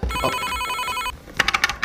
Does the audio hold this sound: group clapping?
no